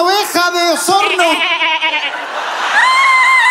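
Sheep bleating at a live comedy show in a large arena, wavering cries repeated several times, close and clear, followed by a higher drawn-out bleat, likely a voice imitating the animal.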